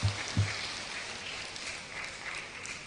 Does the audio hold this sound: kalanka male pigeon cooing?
no